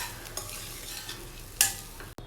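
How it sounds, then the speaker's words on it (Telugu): Ghee rice being mixed with salt in a pan, giving a soft continuous scraping and stirring under a faint sizzle, with one brighter clink of the spoon near the end. "సాల్ట్ యాడ్ చేసిన తర్వాత రైస్ అంతా కూడా బాగా కలిసేటట్టు మిక్స్ చేసుకోవాలండి."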